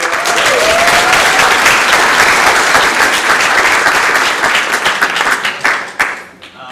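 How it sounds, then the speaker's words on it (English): A roomful of people clap loudly together, sustained applause that thins out and fades with a few last scattered claps near the end. "of applause for Reagan and Lisa who made that video."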